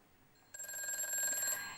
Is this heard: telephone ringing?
yes